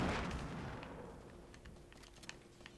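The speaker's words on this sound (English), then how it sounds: "People firing guns." Gunfire in the Fortnite video game: a booming blast that fades into scattered distant shots and pops, faint and sparse against background noise.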